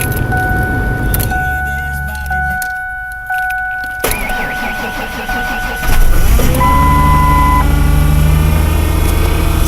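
In cold, snowy weather a car engine is cranked and then catches slowly. Whirring electrical tones and a pause come first, then the engine fires near the end and settles into a loud, steady idle.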